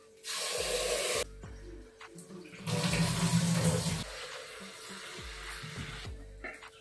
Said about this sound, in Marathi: तर एक गहू अगोदर धुवून घेते.